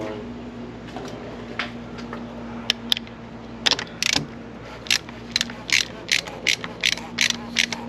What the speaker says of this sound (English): Grab your 24, put it on there. Okay, we're going to ratchet it on.